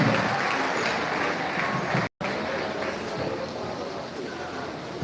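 At an inter-tertiary debate competition, the audience applauds a college director with dense, continuous clapping that fills the room, broken by one brief dropout and then resuming at the same level.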